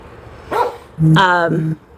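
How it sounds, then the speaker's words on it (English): A pet dog barks indoors: one short bark followed by a longer, louder drawn-out bark, close by, with no talk over it. "That's my dog talking to the people."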